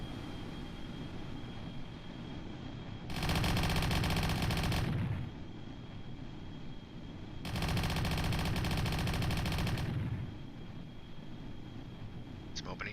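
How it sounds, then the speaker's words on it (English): Gunfire from a weapon in the space game Kerbal Space Program comes as two long, loud buzzing bursts of rapid fire, each a couple of seconds long, over a steady background hum. "Shots."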